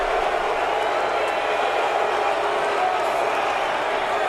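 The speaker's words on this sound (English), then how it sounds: "The boos cascading down from the Pocono race fans today." Race fans at Pocono Raceway booing after a NASCAR race, a dense, sustained roar of crowd noise heard from a distance, steady and unbroken throughout.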